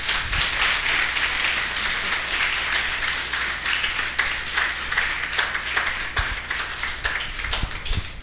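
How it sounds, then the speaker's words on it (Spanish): A church congregation breaks into sustained loud applause, many hands clapping densely and evenly throughout, close and full, with no talk over it. "¿Alguien puede darle un fuerte aplauso a Dios por eso?"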